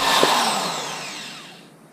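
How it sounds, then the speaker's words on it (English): A power drill whines at high speed boring into a hard rubber rear main seal on a Toyota FJ Cruiser, a steady grinding buzz that slowly fades over about two seconds, with no voices. "I had to work around with the drill a little bit to keep it from walking"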